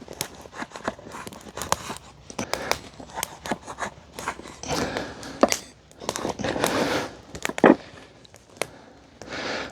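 Scissors snip through a cotton t-shirt to cut it into strips, a run of close, crisp irregular cuts and crunches with short pauses between, no voices.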